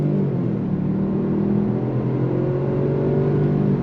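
A 2024 Jaguar XF P300 luxury sedan accelerates under throttle, a steady, smooth engine hum and road rumble heard from inside the cabin, even and sustained without speech.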